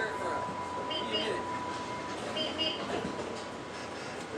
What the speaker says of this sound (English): Northbound train at Santa Fe. Doors are closing. Train departing.